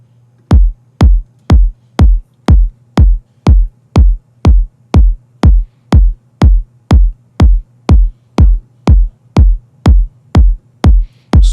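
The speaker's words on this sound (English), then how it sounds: "So both of the kicks sounds like this." Layered electronic kick drums from a sample pack, played in Ableton Live, thump in a steady even pulse of about twenty punchy, deep hits with a clicky top. They are loud and isolated, with no other instruments.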